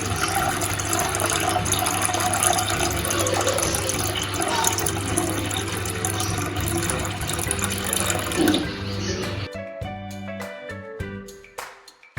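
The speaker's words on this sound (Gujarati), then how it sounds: "તો બીજી વાર આપણે પાણી એડ કરી અને એને વોશ કરી લેશું માખણને." Water pours steadily from a tap onto homemade butter being washed, a continuous close splashing stream that ends in a few clinks and handling sounds as the flow stops.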